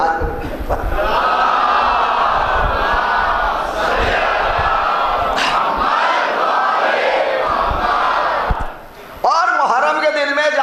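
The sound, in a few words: majlis crowd loudly reciting salawat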